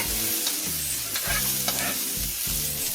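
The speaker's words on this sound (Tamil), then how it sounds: "ஒரு 10 நிமிஷம் நல்லா வதக்கி விட்டுடலாம்" Soy beans and white butter beans sautéing in a pan, a continuous sizzle broken by repeated scraping stirs at a steady rhythm, close and fairly loud.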